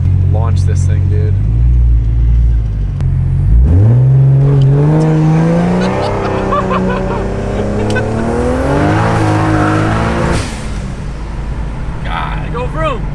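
A Nissan S15 launches hard at a car meet, its engine revving up with a rising roar that climbs and holds loud for several seconds, close by, with voices and crowd noise mixed underneath.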